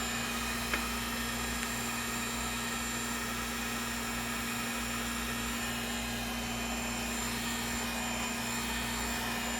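Heat gun warming the screen adhesive on an HP Envy laptop, a constant steady whirring hum with a fixed tone, moderately loud and unbroken, no speech.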